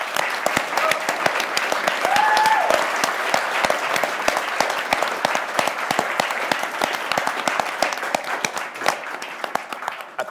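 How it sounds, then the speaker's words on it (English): Audience at a panel discussion on the politics of collusion applauds steadily for about ten seconds, dense even clapping throughout with a few louder individual claps standing out. "So please give a big applause"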